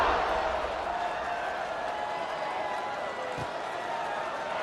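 A stadium crowd in the PS5 game College Football 26, Bowling Green vs. Louisville, sends up a steady broad roar of cheering that holds at an even level throughout, with no voices standing out.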